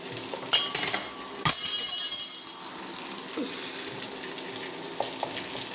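Chopped onions go into hot oil in a pan and sizzle sharply, with a couple of metallic clinks. The sizzle then settles into a softer, steady hiss.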